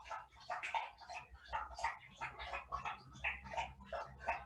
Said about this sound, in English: that's my dog having a quick drink.